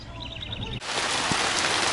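Steady rain falling outside a workshop where a 1970 Volkswagen Beetle is being restored, a dense continuous hiss that starts abruptly after a brief quieter moment with faint bird chirps.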